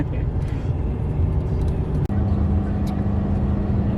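A car driving along an open highway from Wyoming toward South Dakota, heard from inside as a steady low road and engine rumble with wind noise throughout.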